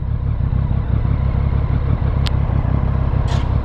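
A motorcycle rides through the city, its engine a steady loud throbbing drone with road clatter, close and continuous, with a couple of brief sharp noises over it.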